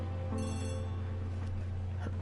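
A telephone rings in an Agatha Christie murder-mystery drama, one brief close bell burst at the start over a steady low hum, then fading.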